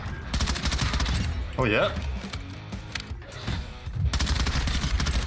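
Burst-fire MP5 submachine gun in a first-person shooter video game, rapid clustered bursts of shots that come in several volleys with brief gaps, while someone talks briefly over them.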